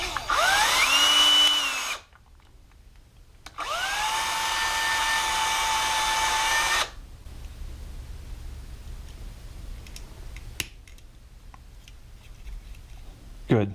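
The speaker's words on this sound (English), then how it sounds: "And then I'm also going to drill out this peg." Power drill drilling out a plastic peg on a model International Harvester Transstar truck, two loud whirring bursts of about two and three seconds, pitch rising as the motor spins up, then quieter handling noise.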